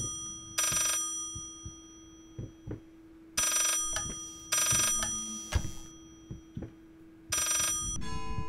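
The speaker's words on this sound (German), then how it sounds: "Es reicht mit deinem scheiß Telefon." An old-fashioned bell telephone rings in the horror video game Layers of Fear, loud and close, in four long bursts with pauses between them, over footsteps and faint background noise.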